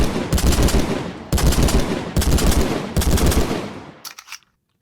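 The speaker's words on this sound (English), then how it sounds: "That's pretty fun, the 3-round burst there." Four rapid bursts of a three-round burst rifle from the Minecraft Scorched Guns 2 mod, each loud and close, followed by a brief mechanical click.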